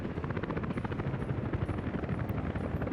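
Helicopter flying in the city-building video game Workers & Resources, a continuous dense rotor chop with steady engine roar, loud and close, no voices.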